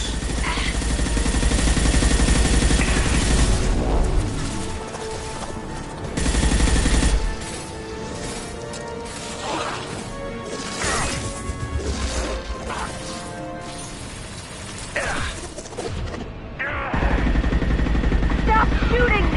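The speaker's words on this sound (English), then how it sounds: "Stop shooting me!" Gunfire in the video game Mass Effect 2 comes in loud bursts of shots and crashing impacts, with pauses between volleys and a voice talking between them.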